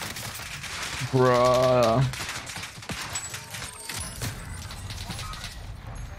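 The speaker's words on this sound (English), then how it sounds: "Shotguns, double barrel shotguns where I'm at." Two loud shotgun blasts from a double-barrel shotgun in the video game Call of Duty: Warzone, close and sharp, followed by ongoing game noise and a brief spoken word.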